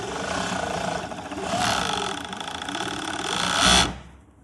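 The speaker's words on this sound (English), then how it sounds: "We will now give you a small demonstration of how the machine" A JUKI MO6716DA-5 industrial overlock sewing machine on a semi-dry head with a servo motor stitches fabric in a steady, fast mechanical whir that runs without a break and swells near the end before stopping abruptly.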